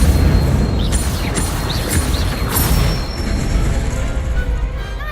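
Incendio fire spells cast in Hogwarts Legacy, a video game, burst out as several quick whooshing, crackling blasts in a row and then fade into a lingering low rumble.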